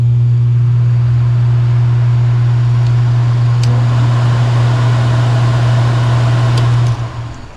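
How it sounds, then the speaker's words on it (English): A car's blower motor runs with a loud, steady low hum, unchanging throughout, then winds down and cuts off at the very end. "We have a blower motor."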